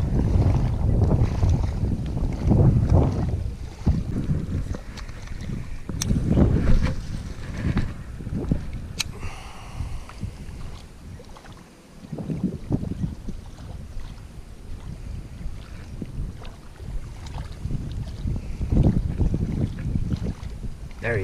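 Wind gusts buffet the microphone while bass fishing from a boat on open water, a loud rumbling roar that surges and fades in waves and carries on throughout with no talking.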